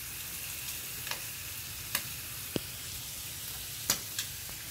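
Bacon sizzles on a hot barbecue grill with a steady, fairly quiet frying hiss and a few sharp crackling pops scattered throughout, with no voices.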